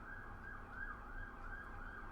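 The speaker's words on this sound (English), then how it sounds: "Oh, please excuse that siren there for a second." A siren wails outside, its rising and falling tone faint and muffled as if heard through walls, sweeping in slow cycles over a low rumbling background with no talk.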